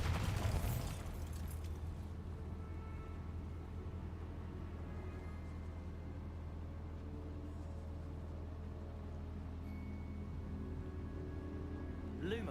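A Bombarda spell blasts in The Elder Scrolls Online, a sharp burst at the very start that quickly fades into a low, steady game hum.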